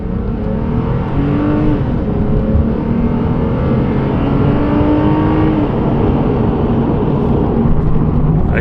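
Engine of a Lexus IS250/IS350 pulls steadily under acceleration on a test drive, a loud continuous drone with rising pitch heard from inside the car, no talk.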